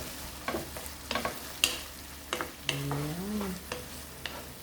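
A hotdog fries in a hot pan with a continuous sizzle, broken by a series of scraping, clattering stirs of a utensil against the pan.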